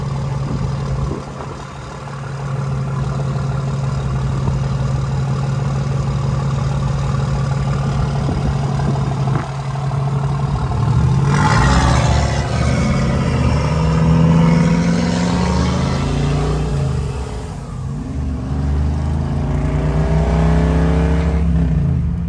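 A car engine driving in fourth gear, a steady low hum that swells into a louder, rising throaty pull partway through, then settles back, heard close from inside with no talk.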